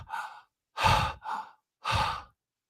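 Four breaths are heard on a paranormal EVP recording. They come as close, breathy sighs in an in-out rhythm, each about half a second long, with brief silences between and no talking.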